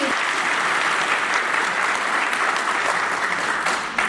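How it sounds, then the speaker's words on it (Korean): An audience at a policy forum applauds warmly and steadily, many hands clapping at an even level before the clapping tapers at the end. "잘 전달해주신 김철진 도의원님께 다시 한번 뜨거운 박수 부탁드립니다."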